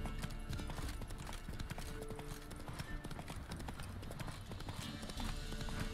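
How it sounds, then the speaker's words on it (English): Horse hooves clip-clopping at a steady gallop in the video game The Witcher 3, a continuous rapid rhythm with occasional snorts and game ambience behind it. "Whoa there, Roach."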